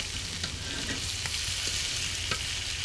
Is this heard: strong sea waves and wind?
no